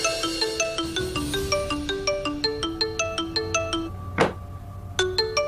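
A phone ringtone plays a repeating melodic pattern of clear electronic tones, loud and close, with a brief interruption near the end before the tune resumes.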